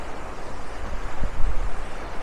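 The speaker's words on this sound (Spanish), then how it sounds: "estas turbulencias del agua que se regresa y el agua que viene" Ocean surf churns at a beach in Playa del Carmen, a continuous rough wash of turbulent water with low thumps and wind buffeting the microphone, loud and close, no speech.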